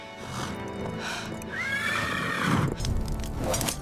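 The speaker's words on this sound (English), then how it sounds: "The horses stopped right in front of me." Horses whinny loudly up close, with a rising neigh mid-clip, while hooves clop and shuffle as they come to a halt.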